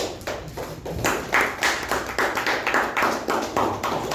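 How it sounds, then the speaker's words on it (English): Meeting attendees at a Toastmasters club clap in a steady rhythmic round of applause, a handful of people close by, the claps evenly spaced and continuing throughout without speech. "You can applaud, yes."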